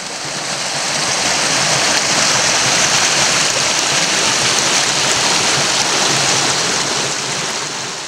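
Steady rushing water of Bandy Creek at Big South Fork, Tennessee, flows continuously without pause, a broad even wash like a creek running over rocks, with no voices.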